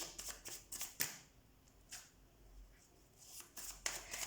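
Tarot cards being shuffled by hand, with soft, quick riffling flutters coming in short bursts and brief pauses between them, faint and close.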